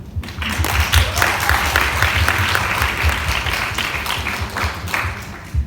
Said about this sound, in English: please welcome our guests with a round of applause